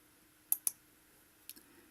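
A few quiet, sharp computer mouse clicks are heard while selecting a line on a chart: two quick clicks close together, then another pair a moment later, over faint room hiss.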